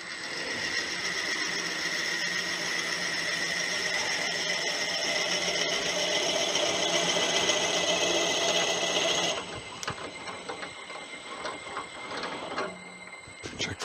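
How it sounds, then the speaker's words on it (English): A wood lathe spins steadily close by with a whirring, humming drone while turning a stainless steel honey dipper, then slows and quiets toward the end. "Slow the lathe way down for this."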